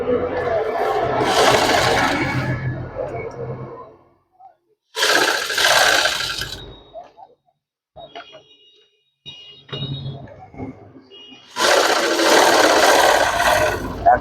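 A sewing machine stitches shirt collar piping in three loud, steady whirring runs, with quieter pauses and handling noises between them.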